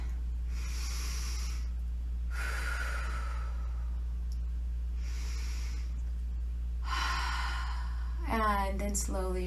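Slow, deep breaths drawn into the chest, four long airy inhales and exhales spaced evenly over a steady low hum, close and clear, ending with a brief voiced sound.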